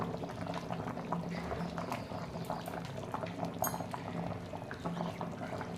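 A pan of Bengali fish roe curry with green chillies and garam masala bubbling on the stove, a steady close-up simmer of popping and gurgling bubbles throughout, with no talk.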